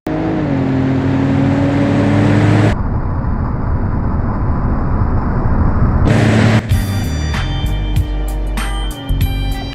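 Ford Explorer engine in a crash simulation game, a loud sustained roar that cuts out abruptly, returns, then gives way to sharp metallic impacts and clatter.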